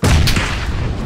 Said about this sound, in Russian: Обоих взорвал.